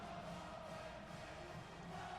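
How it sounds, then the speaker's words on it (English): A large stadium crowd at an Alabama versus Tennessee college football game cheers and roars continuously, a steady wash of distant voices with no pauses. "It don't matter. The fans are still cheering."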